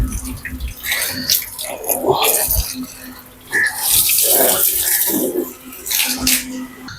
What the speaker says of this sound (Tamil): சும்மா வந்து மேலே தண்ணியை மட்டும் ஊற்றி விடுங்க.